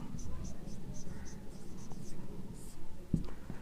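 Chalk or marker writing on a board during a Hindi polity lecture, a continuous soft scratching and tapping with a sharp knock near the end, heard at close range with room noise and no clear speech.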